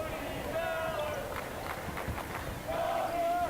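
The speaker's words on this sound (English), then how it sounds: "you hear the crowd chanting right now, Cody Zeller" Crowd in a gym at a youth basketball game chanting a player's name, a rhythmic, moderately distant chant heard under a commentator's steady play-by-play talk.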